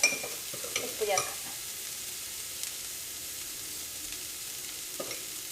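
Bitter gourd frying in a pan for Kerala-style thoran, a soft steady sizzle with a few scraping stirs and clinks near the start, then a quiet continuous hiss close by.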